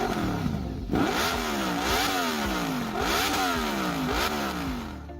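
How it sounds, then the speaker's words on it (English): Honda RC30 motorcycle with a V4 engine, a loud, close, high-pitched wail that climbs repeatedly through the revs, with several sharp rising sweeps each dropping back as gears change, heard without any talk. "The RC30's V4 engine and the precise way it was built gave it a very unique sound, a high-pitched wail"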